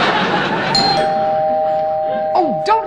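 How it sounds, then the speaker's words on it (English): A doorbell rings in an old television variety show sketch set in a home, giving a clear sustained chime tone that rings out over a steady background hum while people talk around it. "Since when do escaped convicts go around ringing doorbells?"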